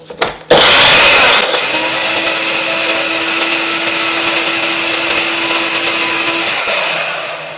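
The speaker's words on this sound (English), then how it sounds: "I need to grind it up a little bit more because I want it to be really fine like this one." Electric grinder pulverizing dried ingredients for a homemade skin and hair oil, a loud close whirring motor that kicks on after a brief clatter, holds a steady high whine for several seconds, then cuts off.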